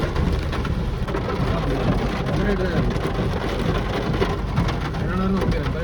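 Heavy rain pours down steadily on a forest road in a dense, constant hiss, with a brief spoken word heard under it.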